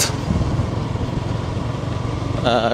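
Motorcycle riding along a rural road past paddy fields and tea gardens in Panchagarh, a rumbling engine drone mixed with wind buffeting, steady and close, with a brief tonal sound near the end.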